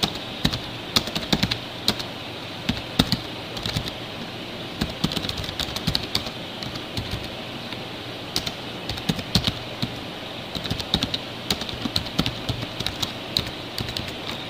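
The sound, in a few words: typing on a computer keyboard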